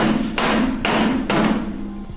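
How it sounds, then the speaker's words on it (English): A hammer strikes the suspension of a 1965 supercharged Mustang to knock it loose, three loud, heavy metallic blows spaced about half a second apart, with a ringing tail after each. "So I'm going to hit it with a hammer until it does."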